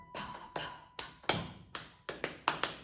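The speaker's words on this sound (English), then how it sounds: "It starts with a hand drum." Sharp hand drum strikes in a loose, steady rhythm, about eight hits with short decaying tails, played alone and fairly close.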